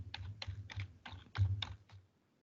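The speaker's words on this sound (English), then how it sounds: "I'm going to type in lund-svr1, and I'm going to click domain and type in adatum.com." Quick bursts of keystrokes on a computer keyboard, close and fairly quiet, typed in a short irregular run that trails off into silence.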